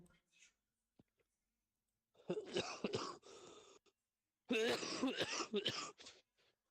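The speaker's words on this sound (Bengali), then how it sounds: "কাশি এত অবস্থা খারাপ করে ফেলতেছে" A person nearby coughs and clears their throat in two harsh, rasping bursts, each lasting about a second or more, separated by quiet with faint clicks.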